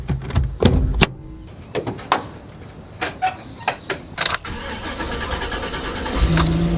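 A bus engine cranks repeatedly without catching, a series of short whirring starter bursts separated by pauses, then a longer stretch of grinding churn near the end, with no talking.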